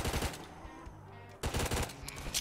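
Rapid machine gun fire in a Roblox zombie apocalypse game, two dense bursts of shots split by a short lull with a faint hum, close and loud.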